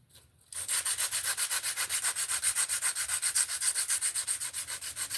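Hand sanding with 120 grit sandpaper gives a close, steady series of rhythmic rasping strokes, each rub rising and falling in a regular back-and-forth pattern after a quiet start.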